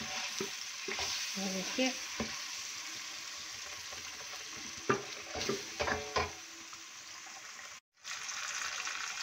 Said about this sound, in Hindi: इसको बिल्कुल हम ड्राई कर लेंगे, इसको अच्छी सी भुनाई करेंगे इसकी।